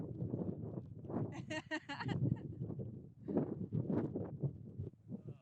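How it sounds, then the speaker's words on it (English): Gusting wind buffets the microphone with low rumble while a person talks over it, outdoors near the summit of La Plata Peak, Colorado, on slippery rocks in an exposed, blustery spot. "It's very windy, very slippery with these rocks."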